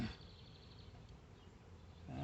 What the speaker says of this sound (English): I got these hard-working bees here